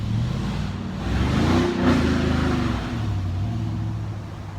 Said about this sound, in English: And this guy's burning out here.